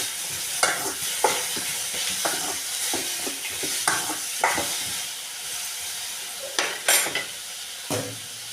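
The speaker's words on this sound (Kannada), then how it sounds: "ಕಸೂರಿ ಮೆಂತಿ ಇವಾಗನ ಸ್ವಲ್ಪ ಫ್ರೈ ಮಾಡ್ಕೊಂಡ್ಬಿಡ್ಬೇಕು" Kasuri methi fries with tomato, onion and masala in a pan, a steady close sizzle broken by repeated scraping strokes of a spoon stirring, with no talking.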